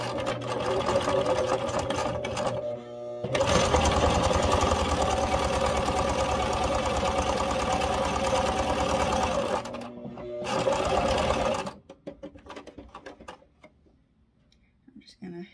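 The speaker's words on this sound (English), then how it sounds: "Okay, so I'm just going to start stitching." A sewing machine stitching pieces of fabric runs with a steady, fast mechanical whir and rattle for about twelve seconds. It pauses briefly twice, then stops, leaving only faint clicks and handling noise.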